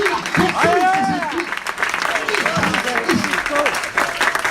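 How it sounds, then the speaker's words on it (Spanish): A church congregation applauds loudly and steadily throughout, a broad wash of clapping mixed under a preacher's amplified voice speaking over it. "Fuerte ese aplauso y diga: Jesús es el"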